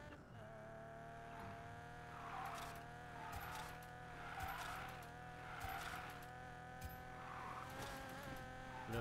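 A car drifts in Need for Speed Payback: a steady, droning engine hum runs throughout, broken by repeated swelling bursts of tire squeal.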